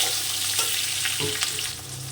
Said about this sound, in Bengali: রসুনটাকে আমি একটু সুন্দর করে ভেজে নেব